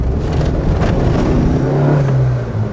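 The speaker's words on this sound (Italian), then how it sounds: "un'acceleratina, mamma mia se gira sto motore, gira benissimo" An Opel Corsa GSi engine roars up close, its pitch climbing as it revs hard, then holding a strong steady drone near the end.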